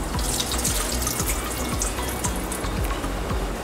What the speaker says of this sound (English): Pour the juice off.